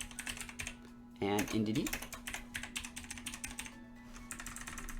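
Rapid clicking of a computer keyboard as someone types a Pokémon Scarlet and Violet team plan, dense keystrokes running through most of the clip with a brief spoken phrase in the middle and a steady background hum.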